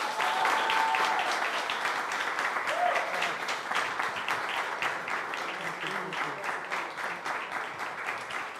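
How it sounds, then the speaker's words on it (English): Audience applause welcoming a guest, sound designer Mark Mangini, onto a live spotlight stage; sustained, dense clapping from a crowd that fills the whole stretch at an even level, with a brief voice faintly heard early on. "Please give a huge Ajyal-sized round of applause to Mr."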